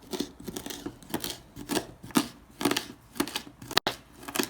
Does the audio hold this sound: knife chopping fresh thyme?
yes